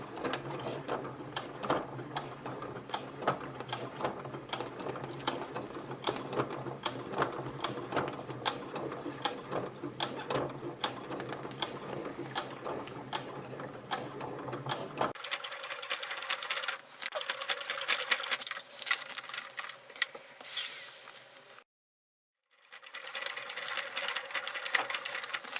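A home sewing machine set to its lowest speed stitches through clear PVC vinyl and recycled denim for a handbag, a continuous mechanical whirring and clicking that shifts to a lighter, brighter chatter midway, briefly stops, then resumes.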